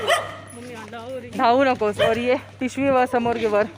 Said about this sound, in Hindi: और ये कुत्ते जो है वो भौंक रहे हैं.